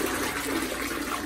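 A toilet flushing with blue disinfectant water, a brief rushing gurgle of water at close range, fairly quiet and without talk.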